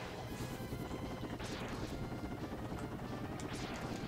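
Helicopter in a Mega Man game on the SNES Classic, a rapid chopping rotor pulse with bursts of crashing impacts and buzzing effects layered over it, steady throughout.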